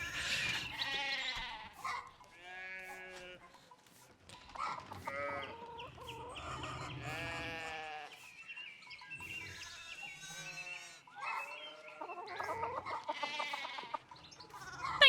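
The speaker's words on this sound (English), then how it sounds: "I have been listening to the sounds of sheep and chicken for the last 3 minutes." Farm animal sounds from the medieval video game Pentiment: chickens cluck and a rooster crows between repeated sheep bleats, the calls overlapping in a lively, fairly loud barnyard mix.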